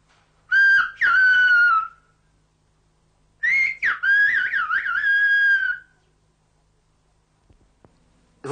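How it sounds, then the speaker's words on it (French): Whistled phrase of Pyrenean patois, the local whistled language, in two clear, loud melodic bursts of gliding, warbling pitch with a brief pause between them, close and otherwise quiet. "la phrase sera parlée en patois, avec répétition, puis sifflée"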